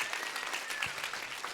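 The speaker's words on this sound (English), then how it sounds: "Let's get one more round of applause for the amazing members of the Jewish Caucus." Brief, dense applause from dinner guests at the Jewish California Capitol Summit, a steady wash of many hands clapping at moderate volume.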